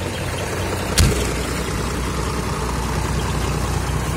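An Iseki 1085 tractor engine idles steadily with a low, even rumble and slight knocking pulse, a brief clunk near the start, no voices.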